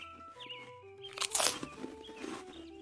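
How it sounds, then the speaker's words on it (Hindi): Cartoon sound effect of a jackal eating fruit: a burst of crunching and chewing bites in the middle, set against a light musical backdrop with tonal lines before and after. "सियार ने बड़े आराम से वो फल खाए।"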